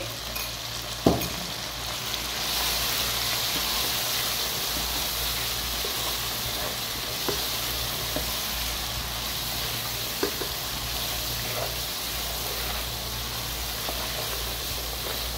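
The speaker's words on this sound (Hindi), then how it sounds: "अच्छे तरीके से मैं अब इस मसाले के साथ इसकी भुनाई करती रहूँगी 4 से 5 मिनट के लिए" Mutton frying with ground masala in a pan, giving a steady close hiss and sizzle with occasional sharp clicks and scrapes of stirring throughout.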